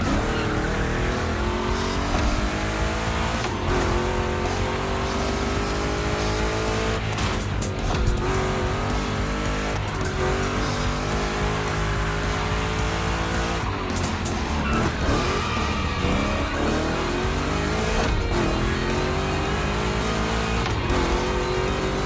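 Two Chevy big-block race car engines roaring in a gymkhana event in The Crew Motorfest, loud continuous revving with shifting pitch, tire squeals and skids throughout.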